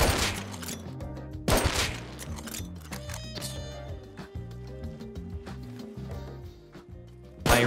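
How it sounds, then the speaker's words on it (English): AK rifle gunfire in a video game cracks out in loud, sharp bursts and scattered single shots over a background of layered game sounds. "That was an AK for sure."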